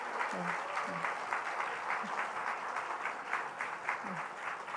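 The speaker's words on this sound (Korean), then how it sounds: "다시 한번 뜨겁게 박수로 환영해 주시길 바랍니다" A church congregation claps warmly to welcome new members, a continuous wash of applause at moderate distance, with faint voices and a few short vocal sounds mixed in.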